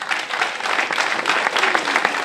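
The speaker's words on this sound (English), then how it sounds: "I want to give a big, big round of applause" Steady applause from a crowd, many hands clapping continuously at a fairly loud, even level.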